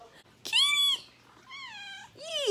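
Cat meowing close by, three distinct meows in quick succession, the first loud and drawn out, the next two slightly softer, in a quiet indoor setting.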